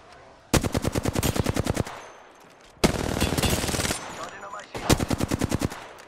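Three bursts of rapid machine-gun fire in a video game firefight, each a steady, evenly spaced rattle of loud, close shots lasting about a second or more, with quieter gaps and distant noise between them.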